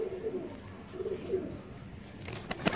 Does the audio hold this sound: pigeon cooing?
yes